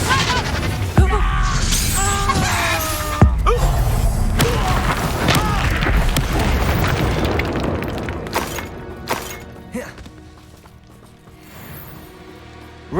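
Confringo fire spells in Hogwarts Legacy bursting in a string of booming blasts and thuds amid dense game music and effects, loud and close, with voices shouting over the action before it fades.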